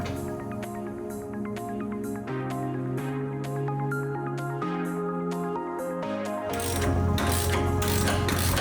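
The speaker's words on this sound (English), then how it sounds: "loosen your rear wheel bolts" A ratchet loosens the wheel bolts on a BMW F80 M3, giving rapid metallic clicking in several bursts that grows louder and busier toward the end, over a steady tonal background.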